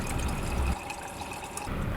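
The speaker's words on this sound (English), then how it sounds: "After filling up my thermos" Water from a 5-gallon jug pours into a thermos in a short, bubbling trickle that thins out midway and swells again at the end.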